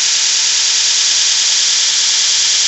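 A knife blade is sanded on 400-grit agglomerated sandpaper, producing a loud, steady, hissing abrasive drone close up with no pauses.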